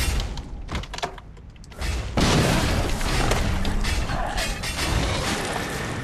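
Cannon fire in the Guild Wars 2 video game: a broad booming burst around two seconds in, followed by sustained loud rumbling and mechanical clatter, after a quieter stretch of creaks and thumps.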